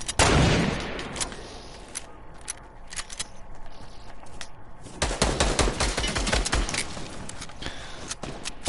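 Fortnite gunfire from weapons such as a FAMAS, SCAR and drum gun: a burst of shots at the start, scattered shots through the middle, then dense rapid fire from about five seconds on, loud and continuous.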